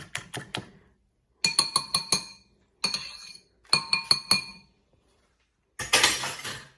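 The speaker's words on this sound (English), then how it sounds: "I'm just going to whisk that together until I get my greens stirred in thoroughly." Eggs mixed with greens for an omelette, whisked in a glass bowl: short rapid bursts of bright clinking strokes, four or five hits per burst, separated by brief silences, close and crisp.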